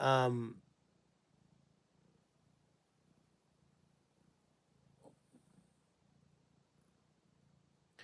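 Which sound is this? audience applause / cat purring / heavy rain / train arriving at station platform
cat purring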